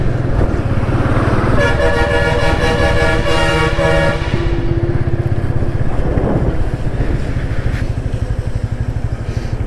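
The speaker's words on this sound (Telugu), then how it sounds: "లారీస్ వస్తున్నాయి." Lorries on a misty mountain road near Kodaikanal, with a loud, sustained horn blast for a few seconds over a constant engine drone heard from inside a moving vehicle.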